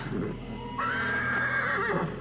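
A horse neighs in a long, loud whinny that rises and wavers before trailing off, heard up close over a low background murmur with no talk.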